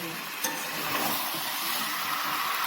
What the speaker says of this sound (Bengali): এটাকে আস্তে আস্তে আমি কষিয়ে নিচ্ছি